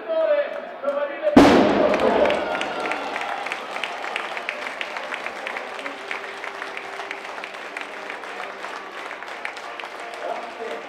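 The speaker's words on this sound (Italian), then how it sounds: "Richiedo un forte applauso per il gruppo del settore giovanile." At a Mantova Calcio youth and first team presentation at Stadio Martelli, a sharp bang opens loud crowd applause that settles into sustained, rhythmic clapping from many hands.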